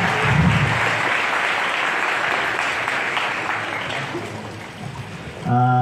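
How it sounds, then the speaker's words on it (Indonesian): Applause from the audience at an Islamic and creative competition event, honoring two athletes. Dense, continuous clapping with a brief voice near the start, fading slightly before a tonal sound cuts in at the end. "tepuk tangan dulu dong untuk perjalanan dua atlet kita"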